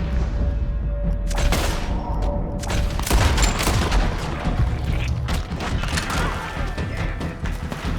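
Heavy, continuous Red Dead Redemption 2 firefight from cover, dense overlapping gunshots and booming impacts layered throughout, loud and chaotic with sharp cracks standing out from a thick rumbling bed.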